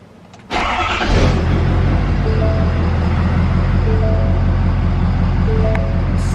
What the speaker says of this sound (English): most likely we need to start the vehicle.